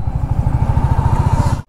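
A Royal Enfield Bullet 350 Standard next-gen motorcycle engine thumps steadily during a ride, a loud, close, evenly pulsing low beat that runs throughout before cutting off abruptly at the very end.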